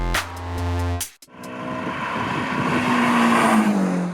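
A Ferrari California's naturally aspirated engine revs hard and loud, a steady rising drone climbing in pitch after a brief pause where the throttle lifts, with road and wind noise beneath.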